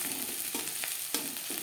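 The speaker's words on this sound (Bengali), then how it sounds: "পেঁয়াজ লালচে করে ভাজা হয়ে গেছে" Sliced onions frying in oil in a pan until reddish, a quiet steady sizzle broken by a few scraping stirs, close up with no voices.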